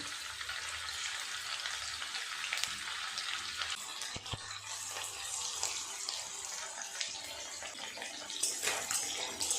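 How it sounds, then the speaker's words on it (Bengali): Chicken pieces frying in hot oil, a dense, steady sizzle heard close up and alone, with a few faint clinks and stirring touches. "এক এক করে চিকেনের টুকরোগুলো দিয়ে ভাজা করে নেব"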